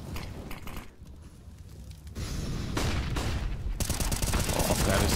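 Gunfire sprayed in Counter-Strike: Global Offensive during a match on the Nuke map, heard as rapid automatic bursts that grow louder and denser toward the end, with faint voices underneath.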